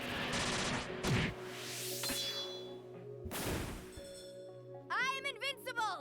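Explosive airstrike attack effects from the video game Trails in the Sky SC, with booming blasts and crashing bursts over game music, followed by bright chiming tones; a voice speaks over parts of it.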